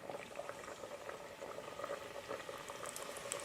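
Fish fillets fry in hot grease with a steady, dense bubbling crackle that holds at an even level throughout, close and fairly quiet, with no voices.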